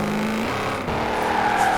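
A drift-tuned car slides through a corner in Forza Horizon 4, its engine droning steadily with a tonal whine shifting pitch midway, loud and continuous with no talking.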